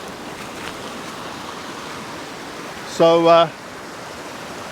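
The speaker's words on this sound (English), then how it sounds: "there's the waterfall that I'm going to photograph" A forest waterfall fills the air with a steady, even hiss and rush of falling water, a constant broad wash heard from some distance, with someone briefly saying a word over it.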